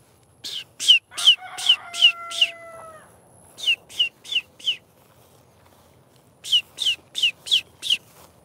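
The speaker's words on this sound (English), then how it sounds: "Trying to get a chicken." A chicken calls nearby in three bursts of sharp, repeated chirping notes, the first burst joined by a brief drawn-out tonal cry, with short quiet gaps between the bursts.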